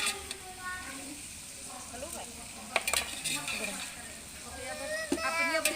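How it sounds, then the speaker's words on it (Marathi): Masala and vegetables for veg biryani sautéed in a pan, a soft steady sizzle with scraping stirs and a few spoon clinks, while faint voices murmur in the background. "आता व्यवस्थित परतून घेत आहोत आपण सगळा मसाला भाज्या वगैरे"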